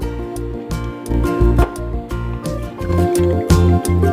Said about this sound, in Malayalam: ഇനി ഇതിലേക്ക് നമ്മൾ മാറ്റി വെച്ചില്ലേ കുറച്ച് പാല്, അത് ചേർത്ത് മിക്സ് ചെയ്യാം.